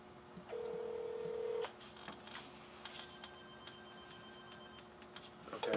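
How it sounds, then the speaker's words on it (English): A phone being dialed plays one long steady tone, then a string of short faint keypad beeps spread irregularly over several seconds in a quiet room. "How do I make a phone call on my phone?"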